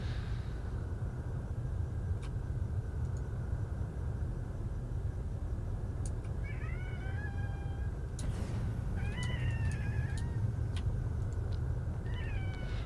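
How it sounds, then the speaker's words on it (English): A cat meows several times in short wavering calls, fairly close but faint, over a quiet low background hum with no talking. "the cats learn to meow to mimic human babies and their suffering so that they could get our attention"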